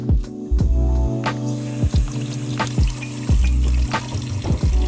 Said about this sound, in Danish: Nu kommer der i hvert fald vand ud af den her.